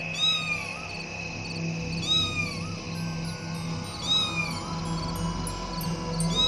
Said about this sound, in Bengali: ওরে বাবারে, বিড়াল!